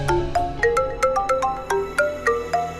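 A mobile phone ringtone plays a bright, tinkling melodic pattern of evenly spaced tones, clear and close with no other sound.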